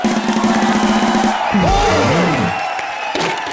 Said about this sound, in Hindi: अनिल कपूर सर के लिए जोरदार तालियां